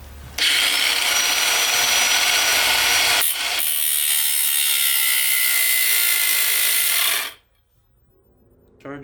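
A cordless angle grinder shaves plastic off a turbo oil drain part, a loud high-pitched whine that dips briefly, then runs on before spinning down and stopping near the end.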